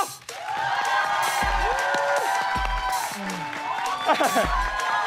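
A studio audience applauds and cheers at the close of a variety show segment, steady loud clapping with whoops throughout, a few low thumps underneath.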